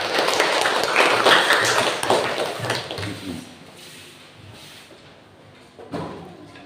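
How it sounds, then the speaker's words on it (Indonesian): Audience clapping at an Islamic talk, a loud burst of applause at the start that fades over a few seconds, followed by quieter taps and a final clap. "Kasih aplaus untuk kita"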